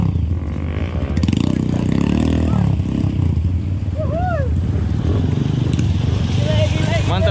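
A motorcycle idles and revs gently as it crawls through a deep, fast-flowing river, its steady engine drone layered with rushing water, while people talk over it throughout.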